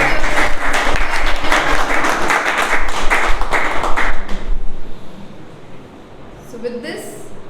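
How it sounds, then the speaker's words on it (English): An online meeting audience claps in loud, dense applause for about four seconds, then it cuts off to a quieter background with voices. "A huge round of applause."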